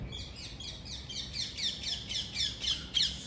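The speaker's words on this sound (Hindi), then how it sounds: "सुबह सुबह पक्षियों की आवाज़" Birds chirp in the morning near a flowering mogra vine, a steady run of rapid, repeated high chirps at moderate distance that grow slightly louder toward the end, over faint background noise.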